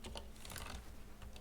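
Rapid typing on a computer keyboard during a JavaScript coding session, a steady stream of light, overlapping key clicks over a low constant hum, with no talk.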